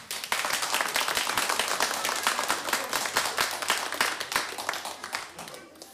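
Studio audience on a children's talent show claps steadily and briskly throughout, a dense, even patter of many hands that holds at moderate loudness without pause.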